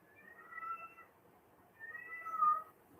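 A house cat meows twice indoors, two drawn-out calls about a second apart, close and fairly quiet, apparently asking for its litter box.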